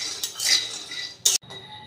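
Dry peanuts are roasted in a pan with no oil, and a metal utensil scrapes and clinks against it in a few short, close, sharp strikes over a soft rattling.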